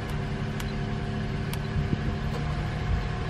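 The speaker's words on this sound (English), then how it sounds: "Gotta warm the car up." A car engine warming up on a rainy day, a steady low idle rumble held close and even, with faint clicks and a small bump partway through.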